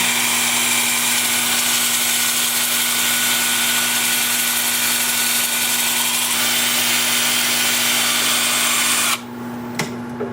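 Sea grape wood spins on a lathe while being sanded during wood turning, a loud, steady whirring drone with a constant hum that cuts off near the end, leaving a fainter running tone.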